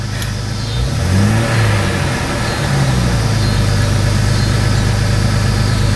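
A 2000 Jeep Cherokee XJ engine revving unevenly and hunting at idle, its pitch rising and sagging in loose surges, loud and close beneath broadband rumble, with no one speaking.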